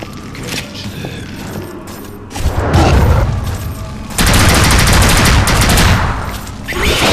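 A submachine gun fires in the first-person shooter NecroVision: loud, rapid automatic bursts separated by short pauses, with mechanical clatter and impacts between them.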